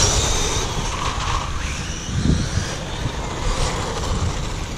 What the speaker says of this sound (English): full throttle on grass towards me